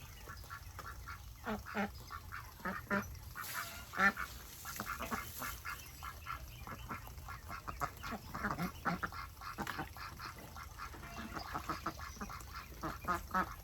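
Ducks quack repeatedly on a farm homestead, a broody duck guarding her nest among them, with steady overlapping calls close by and no talking.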